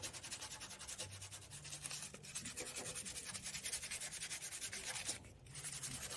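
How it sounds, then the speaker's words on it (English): Sandpaper rubs by hand on a Suzuki Samurai, quick rhythmic back-and-forth scratching strokes, close and fairly quiet, continuing with only a brief pause. "I was sanding on the inside too"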